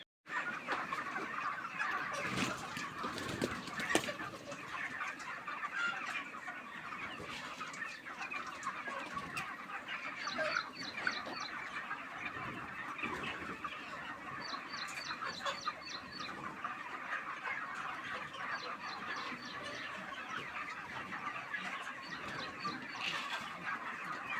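Chickens on a poultry farm cluck and murmur continuously through a long stretch, a busy flock heard at moderate distance with occasional sharper calls standing out from the steady background.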